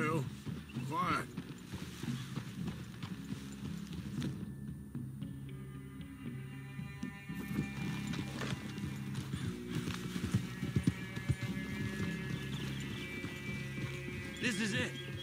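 Horse hooves clip-clop steadily at a walk in the video game Red Dead Redemption 2, with occasional whinnies and tack jingling, heard under a voice and game music in an outdoor forest clearing.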